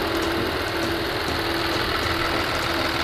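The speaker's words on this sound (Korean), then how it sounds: "엔진 소리 일정하네요" A Kia Mohave 3.0 diesel SUV engine idles steadily and evenly, a low, continuous rumble with a slight knock, close up and without any talking.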